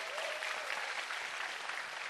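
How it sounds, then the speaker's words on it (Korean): A studio audience at a Korean music show applauds steadily, a sustained wash of clapping from the crowd with no talk over it. "큰 박수 부탁드립니다."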